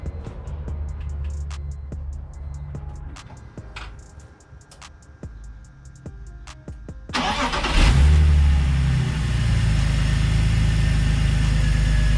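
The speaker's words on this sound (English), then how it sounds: "I'm just gonna turn it on and make sure there's no misfires or anything." A BMW E46 with newly installed colder spark plugs is worked on with scattered clicks and taps before the engine cranks, catches and settles into a loud, steady idle close by, with no talking.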